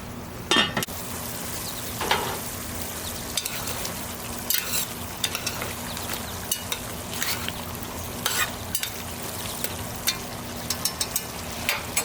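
Cumin duck cooking in a covered pot, with a steady close sizzle and bubbling running throughout and occasional sharper scrapes or clicks standing out against it.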